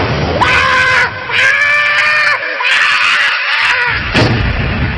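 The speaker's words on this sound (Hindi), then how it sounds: "कुछ देर बाद लेखक की एक जोर से चीख सुनाई देती है।" A man's loud, drawn-out scream repeats in anguished bursts, harsh and close, in a cartoon horror story.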